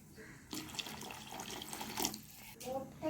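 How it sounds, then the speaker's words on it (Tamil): Water splashes and pours in short bursts into a pot of peanut brinjal curry, a close, wet gushing that starts and stops a few times. "இன்னும் கொஞ்சம் தண்ணி சேர்த்துக்கலாம்"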